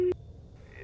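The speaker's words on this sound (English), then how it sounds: "God damn, please pick up the phone" A ringing tone of a phone call in the video game Greyhill Incident, a brief steady electronic tone that cuts off quickly, followed by a faint low hum.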